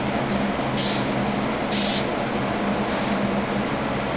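Two short, sharp hisses of spray paint lay a shiny black lacquer base coat on a toy car, set against a quiet background.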